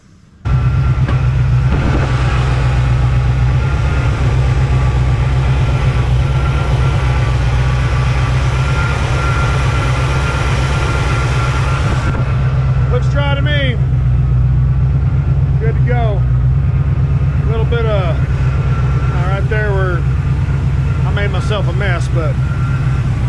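Car engine burbling at idle, a steady deep low rumble running continuously and close throughout, with people talking over it in the second half.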